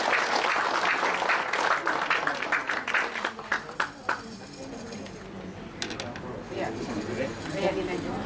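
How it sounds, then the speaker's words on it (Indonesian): Audience clapping for Ibu Yuli at a health product gathering, a burst of claps that thins into scattered individual claps and fades, with people talking over the end. "Beri tepuk tangan dong buat Ibu Yuli."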